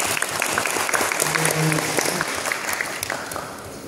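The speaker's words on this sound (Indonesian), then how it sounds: "tepuk tangan dulu." An audience applauds during a motivational talk before a school quiz competition in Tarakan, steady dense clapping with a few voices underneath, sustained for about four seconds.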